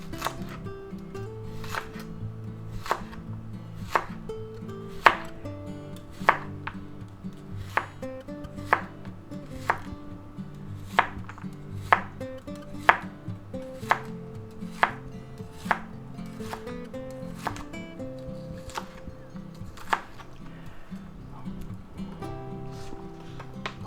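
Knife slicing bok choy stems on a cutting board while making chicken chow mein, about twenty crisp, evenly spaced chops in a steady rhythm, close and clear over a low hum, with no talk.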